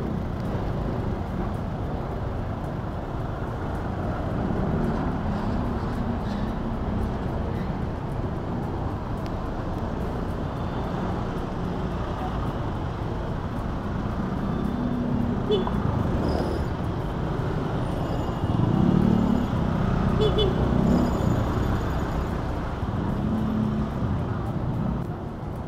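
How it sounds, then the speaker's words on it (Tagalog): Steady roadway hum of cars and motorbikes on a narrowed two-lane street lined with parked motorcycles and vehicles, a continuous wash of engines with a louder pass near the end, while a person talks over it. "Grabe yung traffic."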